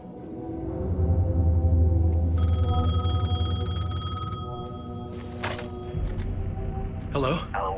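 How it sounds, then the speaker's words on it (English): A payphone rings in the video game Alan Wake 2, a sustained metallic bell tone in the middle of the moment, while someone speaks over it and low ambient drones fill the background. "The payphone was ringing."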